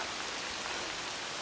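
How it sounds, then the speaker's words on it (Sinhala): Heavy rain falls in a forest reserve along a stepped hiking path, a steady, even hiss of downpour that stays fairly soft and unbroken, with no talking. "දැන් නම් සෑහෙන්න වහිනවා."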